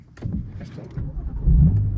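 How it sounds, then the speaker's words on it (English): A BMW M4 Competition's engine rumbles low and steady from inside the cabin on a road test drive, swelling louder in the final half-second. "Just listen to the roar of that engine"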